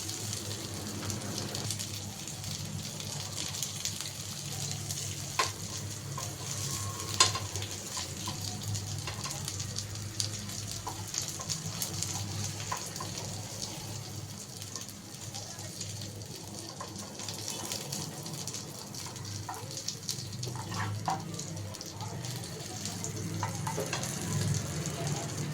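Chicken pieces frying in coconut oil in a home kitchen, giving a steady, continuous sizzle and crackle with occasional stirring clatter, fairly even in loudness throughout.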